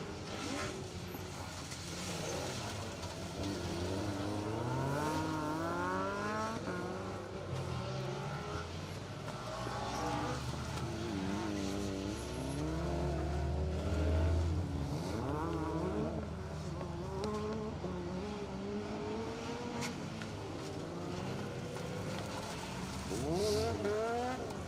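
A Mitsubishi Lancer Evo 5 rally car, car 21, races around a dry circuit on a rally stage, its engine revving and shifting through gears with rising and falling pitch, loud and sustained, with brief tyre squeal.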